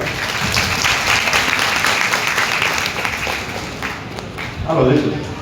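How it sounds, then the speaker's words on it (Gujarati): Loud, sustained applause from a crowd at a Bhagavat Katha gathering, dense clapping that thins toward the end as a voice speaks over it. "તાળીઓ જોરદાર."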